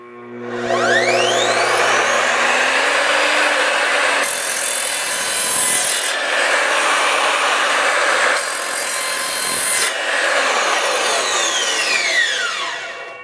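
A Ridgid R255SMS 10-inch TCT sliding miter saw with a multi-material blade cutting through PVC pipe: a steady, loud whine of the spinning blade with two brighter, harsher bursts as the teeth bite through the plastic, then spinning down at the end.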